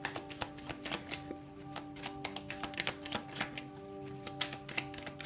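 Tarot cards being shuffled in a quick run of crisp, papery riffles and taps, close and fairly loud, with a steady tonal hum running underneath.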